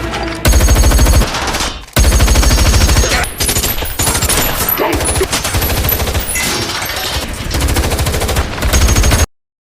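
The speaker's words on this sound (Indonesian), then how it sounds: "Petugas penjaga pun tidak tinggal diam dan melakukan perlawanan sehingga baku tembak pun terjadi" Loud, dense gunfire from a film shootout in Wrath of Man, rapid automatic bursts rattling almost continuously for nine seconds with a brief break near the two-second mark, then cutting off abruptly.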